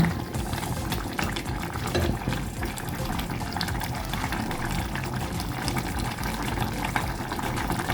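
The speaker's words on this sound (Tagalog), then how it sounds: "Lagyan na rin natin yung ating gata." Coconut milk (gata) poured into a pot of laksa, a steady liquid pouring and bubbling wash that runs close and continuous for several seconds without talk.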